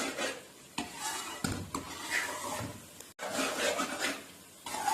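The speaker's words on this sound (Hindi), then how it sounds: "मुसलसल हम चमचा चलाते हुए" A spoon stirs thickening besan halwa in a hot pan after warm sugar syrup goes in, giving close, steady scraping and rubbing strokes with a few sharper knocks and a brief pause near the middle.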